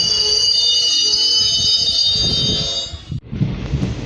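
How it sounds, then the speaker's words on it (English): A DEMU passenger train pulls out of Dumdim station in India, with a loud sustained high-pitched whine or squeal over low rumbling rail noise that cuts off briefly before the rumble continues. "So now after 2 minutes halt we are departing Dumdim station."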